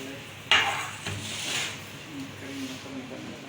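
A metal pizza pan clanks sharply once as it is set into a hot oven, followed by a softer scrape and faint clatter, with a voice speaking quietly over it.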